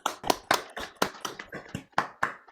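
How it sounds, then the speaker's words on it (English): Close, sharp handclaps from an online audience applauding storytellers, about ten distinct claps in an uneven rhythm, like a few people clapping near their microphones rather than a large crowd. "give our applause to these wonderful storytellers and their stories"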